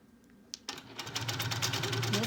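Longarm quilting machine sewing on quilt binding: after a soft click, the motor starts and settles into a fast, steady, close stitching whir that keeps running to the end.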